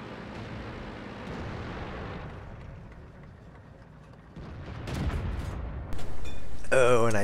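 A tank cannon fires in a tank video game: a deep boom lands over rumbling game ambience, followed by louder crashes and a brief high whine at the end, with a voice talking throughout.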